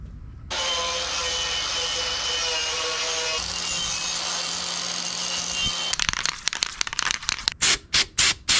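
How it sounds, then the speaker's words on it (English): A wire wheel on a power tool grinding surface rust off a Nissan 240SX body panel: a loud, continuous harsh whirring scrape that breaks into a run of short, rapid bursts near the end. "I'm gonna wire wheel all the surface rust off"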